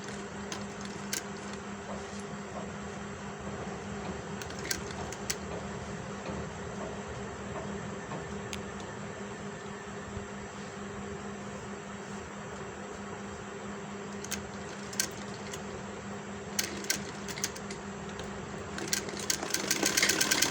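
A sewing machine stitching along a buckram edge while making a V-neck, a low steady mechanical whir running throughout, quiet and close, with occasional sharp clicks and a slight rise near the end.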